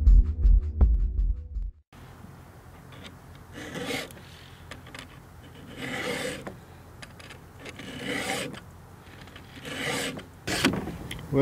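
Several rasping, scraping strokes come from a saw being readied for cutting walnut timber on a farm, each lasting about a second and repeating at a slow, irregular pace, close to the mic after a brief low rumble at the start.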